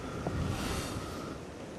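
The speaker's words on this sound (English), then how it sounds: "those wind gusts have gone to the next level here on the Gold Coast" Strong wind from Cyclone Alfred on the Gold Coast roars steadily across the microphone, a dense rushing blast with buffeting gusts and no voices.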